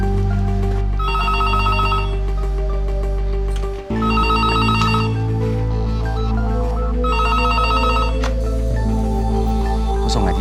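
A telephone rings in bursts of repeated electronic trills inside a house, set over loud, steady background music in a Hakka-language TV drama scene.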